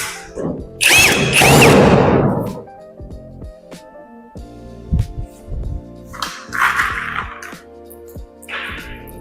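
A power drill whirs loudly in a long burst while driving bolts into a wardrobe being assembled, followed by clunks, shorter drill bursts and handling knocks nearby.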